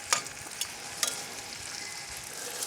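Sweet onions sautéing for a BBQ cube steak sandwich give a steady, soft sizzle with a few sharp stir clicks of a utensil against the pan, close and alone, no voices.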